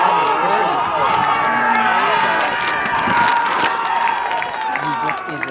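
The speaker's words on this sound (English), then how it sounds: "You can hear their eruption of applause from the sideline across the field." Applause and cheering erupt from the sideline at a men's premiership rugby quarterfinal, a sustained crowd roar heard from across the field with the commentator talking over it.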